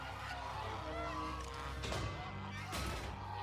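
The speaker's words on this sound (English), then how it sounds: "Uh-oh. Guard goose." A cartoon guard goose honks a few times amid a quiet background hum and some faint music, with a couple of sharp bursts standing out.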